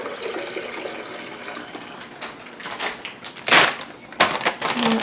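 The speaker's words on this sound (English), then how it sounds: "I'm going to add a quart of water to my Vitamix." A quart of water is poured into a Vitamix blender jar, splashing and gurgling with a few louder pours and clattering knocks, close by and without talk.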